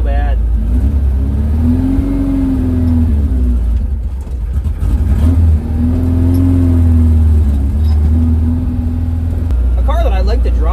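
An old Bradley GT 2 kit car engine idles loudly and unevenly up close, running roughly, its drone wavering and surging, with a voice briefly heard near the end.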